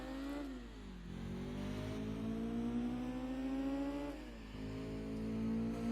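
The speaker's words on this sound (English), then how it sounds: "it sounds different mainly because I put on the racing exhaust basically" A race car engine with a racing exhaust in Gran Turismo 2 revs hard and loud, pitch climbing, dipping at a gear shift, then climbing again, with a raspy, buzzing exhaust note throughout.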